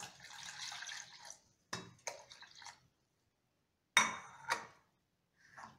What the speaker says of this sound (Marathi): पाणी घालायचं आहे आपल्याला याच्यात भरपूर